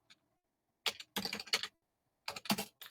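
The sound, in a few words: typing on a computer keyboard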